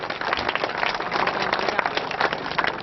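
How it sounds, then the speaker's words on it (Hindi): A crowd at a political welcome gathering in Barwani claps in a dense, steady burst of applause that stays fairly loud and even throughout, with no talk over it. "सभी लोग पीछे से तालियां बजाइए।"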